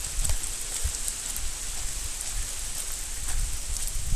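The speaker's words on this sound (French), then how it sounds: "Et il pleut, il fait tout gris, il fait du brouillard" Rain falling steadily on a grey, foggy day at an old farm, a continuous close hiss of drops with occasional louder taps on nearby surfaces.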